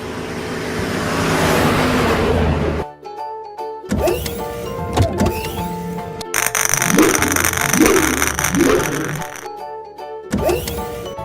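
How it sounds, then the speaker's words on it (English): Engine of an animated yellow school bus driving, a rough, loud rumble for about three seconds before cutting off, followed by scattered playful effects. "Yellow school bus."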